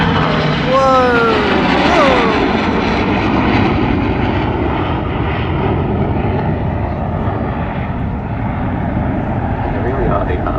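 An F-35 fighter jet flies past at the Newcastle air show, a loud, sustained engine roar heard from the crowd, with brief voices and whistle-like tones near the start before the jet noise fades.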